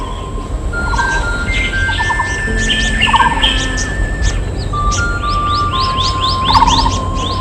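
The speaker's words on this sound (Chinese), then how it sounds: "這麼多的鳥叫聲，聽得令人心神氣爽" Many birds call at once in a dense forest, overlapping chirps, whistles and rapid trills near and far forming a lively, continuous chorus.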